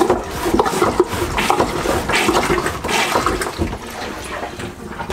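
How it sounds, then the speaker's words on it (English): Rhythmic sloshing and gurgling water with rubbing, creaking strokes of a hand-pumped marine toilet pumping out on a Beneteau Oceanis 41.1 sailboat, close and steady. "To dry that water out, flick it over to pump out and pump all of the water out"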